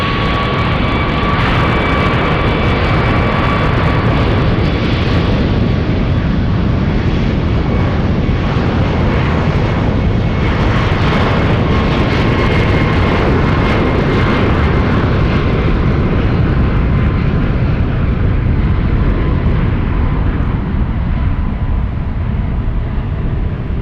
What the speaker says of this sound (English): United 1393 flying to Philadelphia. That's a 737 MAX 8.